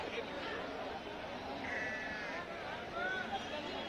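Sheep bleat in wavering cries at a Sunday livestock market in Ranebennur, Karnataka, set against a constant busy crowd murmur and nearby voices.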